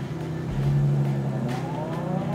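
A vintage Aston Martin DB2 drives through downtown Miami, its engine holding a steady, close drone that rises slightly in pitch toward the end.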